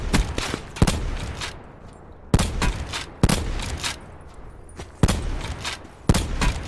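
Gunshots in Call of Duty Black Ops 4 Blackout ring out in a string of loud, close reports a second or two apart, each trailing into game ambience.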